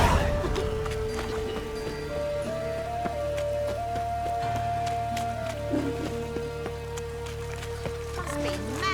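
Rain falling in The Witcher 3, a steady patter of drops under sustained musical tones and game ambience, with a brief horse-like clatter partway through and no talk.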